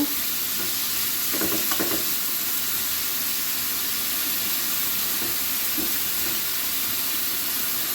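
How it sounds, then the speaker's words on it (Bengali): Bitter gourd and potato fry with onion in oil, a loud, continuous close-up sizzle and hiss with a few brief stirring scrapes, and no voices. "আমি একটু একটু পেঁয়াজ দিয়ে ভাজছি"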